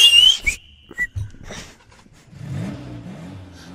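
A man whistles a few sharp, high notes with effort, followed by a car engine revving and idling close by, with shuffling and handling noises.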